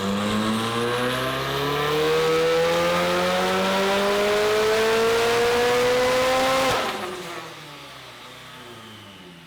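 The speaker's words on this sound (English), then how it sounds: "It was going to be the last pull or two, and the engine just died." A McLaren engine strains loud and steady on a dyno pull, its pitch climbing smoothly for several seconds before the crank hub slips and the engine abruptly dies into a quieter fading rumble.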